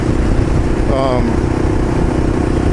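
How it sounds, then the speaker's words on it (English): A motorcycle fitted with an MCP carburetor upgrade idles steadily, a loud continuous engine rumble close by, with a short tonal burst partway through. "When I go to idle, when I pull it in neutral, it idles right down and just sits there."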